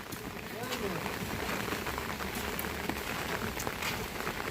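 Light drizzle falls outdoors in a village on a rainy day, a soft, steady patter of drops on surfaces spread evenly throughout, with faint voices in the background.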